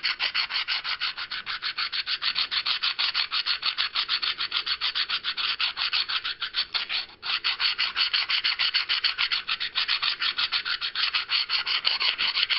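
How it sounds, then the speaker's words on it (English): A fine grit abrader grinds around the edges of a knife, a steady close rhythmic rasping of repeated strokes with one brief pause. "I take my fine grit abrader and I want to really grind all the way around the edges."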